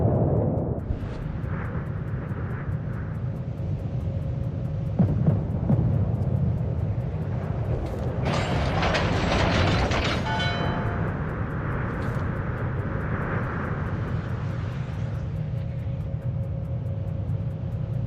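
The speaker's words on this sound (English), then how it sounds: "Spotter airborne." A spotter plane launches from a warship in the World of Warships video game, a loud engine roar swelling and then fading over a steady rumble of ship and sea ambience, with no talking.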